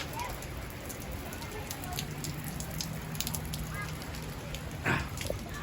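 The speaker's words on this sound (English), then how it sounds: "Storm runoff going down Heron again." Storm runoff from heavy rain flowing down a residential street during flash flooding, a steady, dense hiss and rush of water and light rainfall close by, with a brief splash near the end and faint voices under it.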